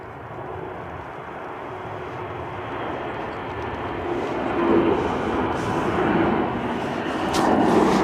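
A jet aborting its landing and climbing away at Manchester Airport in stormy weather, engine roar building gradually from a moderate level to louder, with wind noise mixed in.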